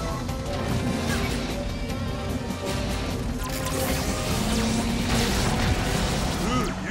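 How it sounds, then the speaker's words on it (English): Satellite laser strike destroying targets in a video game, heard as heavy booming crashes and rumbling blasts, loud and continuous, under a synthetic announcer voice. "Satellite laser acquired. Targets destroyed."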